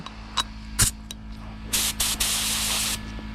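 A spray gun hisses in several short bursts, then one longer sustained blast of clear coat, close by and loud over a low steady hum, during a car paint repair.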